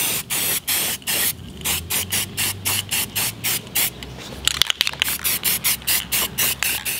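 Aerosol primer sprayed onto a brake caliper in quick repeated bursts, about a dozen short hissing pulses with brief gaps, close and fairly loud, with a faint clatter midway.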